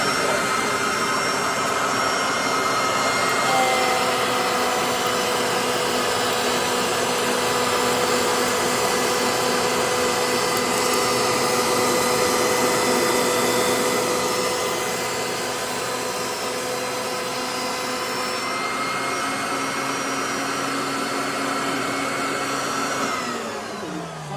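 A woodworking machine motor runs loud and steady with a workpiece fed through, a continuous dense whine and roar that eases slightly partway through.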